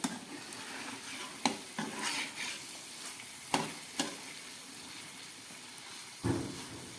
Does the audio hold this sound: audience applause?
no